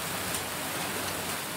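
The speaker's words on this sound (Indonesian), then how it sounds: "Hujan es baru disadari setelah warga mendengar bunyi berisik di atap." Heavy rain mixed with hail pelts a roof in a steady, dense hiss with no pauses, loud and close throughout, with no voices.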